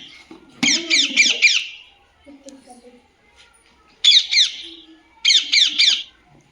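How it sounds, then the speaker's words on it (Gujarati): Three bursts of loud, harsh parrot squawks, each a rapid string of rasping calls, with short quiet gaps and faint voices between them. "કયું પક્ષી હતું પોપટ"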